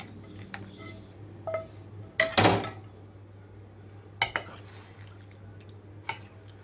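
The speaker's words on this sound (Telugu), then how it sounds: "రెండు మూడు నిమిషాల తర్వాత తాలింపు అంతా కలిపేసుకుంటున్నాను" A spoon clinks and scrapes against a metal pan while stirring a tempering, in a few sharp bursts separated by quieter gaps over a low steady hum.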